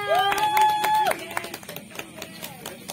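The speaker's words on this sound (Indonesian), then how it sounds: "langsung kita beri tepuk tangan yang meriah untuk Jessica Aidil Lesmara" An audience at a year-end stage reading event claps for a performer, a short burst of scattered claps that thins out after a voice at the start.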